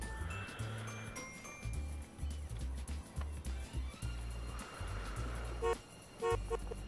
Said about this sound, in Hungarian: Még duda is van.